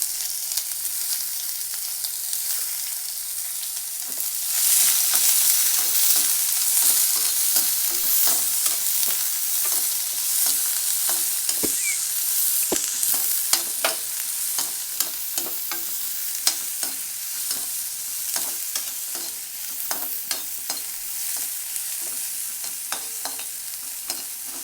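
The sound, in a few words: frying onions and dried chillies in a pan, stirring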